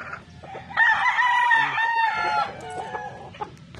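A young Raptor pullet crows once, a strained, wavering call lasting about two seconds, close and clear against faint background clucks and farmyard noise.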